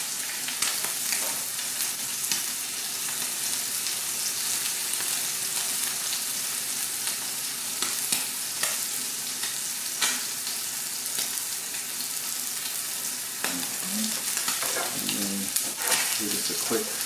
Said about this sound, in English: stir to get all of the lime juice incorporated.